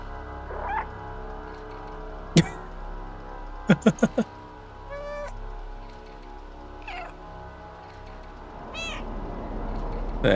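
Meows from a cat wandering a flooded, abandoned city in the video game Stray, standing ankle deep in water: a handful of short, clear meows spread across the stretch, with a faint ambient game backdrop beneath them.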